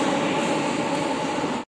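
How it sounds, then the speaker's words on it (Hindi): A metro train at Huda City Centre station in Gurgaon makes a steady, loud broadband rumble and hiss, then cuts off abruptly just before the end. "तो ये है मेट्रो"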